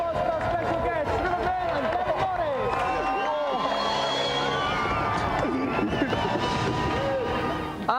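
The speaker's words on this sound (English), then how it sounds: "Another round of applause for our special guests, Rupert and Dewi Morris!" A large studio audience claps and cheers loudly and continuously for special guests on a TV game show, a dense wall of applause with excited shouts mixed through it.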